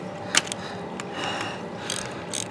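Ratchet clicking as it backs out the oil screen bolt on a 2017 Husqvarna 701 Supermoto, a few short metallic bursts of pawl clicks close by, with no talking.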